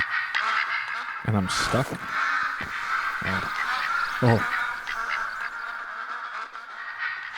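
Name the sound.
ducks quacking loudly in a hunting video game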